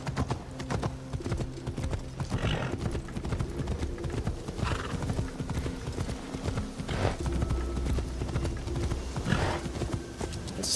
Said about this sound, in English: the horse will magically appear